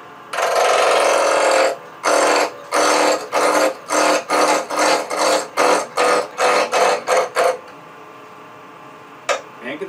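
A wood lathe spins a blank mounted between centers as a spindle roughing gouge cuts it round. About a dozen rhythmic, scraping bursts come close together, loud and close up, then stop, with one brief knock near the end.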